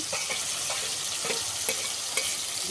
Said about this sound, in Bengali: মশলাটাকে দিয়ে একটু নেড়ে একটু হাই স্পিড দিয়ে দিচ্ছি